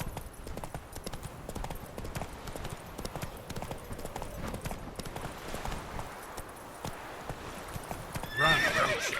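Horse in The Witcher 3: Wild Hunt, galloping with rapid steady clip-clop hoofbeats on the ground throughout, ending in a loud shrill neigh near the close, with a voice urging it on.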